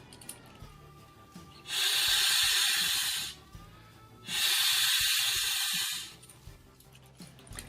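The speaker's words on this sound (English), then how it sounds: "first I'm going to blow into this bag with a conventional valve" Two long breaths blown into an air bag through a conventional valve, each a steady rushing hiss lasting over a second, separated by a short pause, close and fairly loud against a quiet room.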